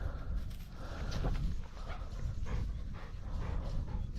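A sight hound works a rabbit burrow outdoors, giving soft whimpers and yips amid shuffling footsteps and rustling, fairly close and continuous.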